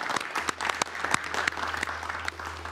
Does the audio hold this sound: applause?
yes